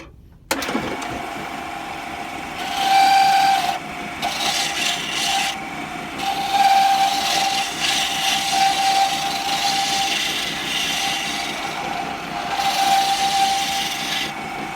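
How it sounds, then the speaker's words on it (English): Steel gouge roughing a curve into wood while carving a musketeer rapier, a steady scraping rasp of repeated strokes, fairly close and continuous without talk. "So I'm kind of using the gouge out, a rough in, a kind of a sexy curve."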